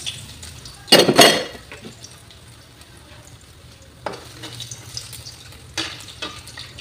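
Ginger slices dropped into hot oil in a wok for chicken tinola, giving a loud burst of sizzling with stirring scrapes, then quieter frying with two more spatters later.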